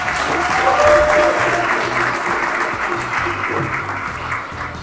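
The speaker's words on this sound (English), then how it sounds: "give her a round of applause" A crowd at an African diaspora birthday celebration for Haile Selassie I applauds loudly and steadily, with a faint murmur of voices beneath the dense clapping that gradually eases toward the end.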